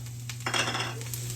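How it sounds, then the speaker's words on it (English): Onions and garlic sautéing in a pan are stirred with a utensil, a brief close scrape and clink over a soft sizzle above a steady low hum, with no voices. "Just going to stir it around for a minute or so."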